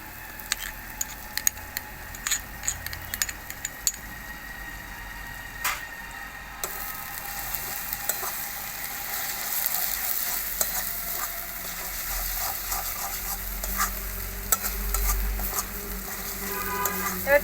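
Ginger paste frying with garlic in a pan for mutton kosha, a continuous sizzle under repeated scraping and clicking of a spatula as the mixture is stirred, growing denser and louder partway through, no talking.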